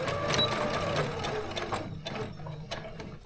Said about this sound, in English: And I'm just gonna start sewing again.